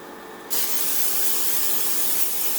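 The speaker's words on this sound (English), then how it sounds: "you're going to want to spray it" A loud, steady aerosol cooking spray hisses continuously onto a cake pan for a couple of seconds after a short quiet start, close to the microphone.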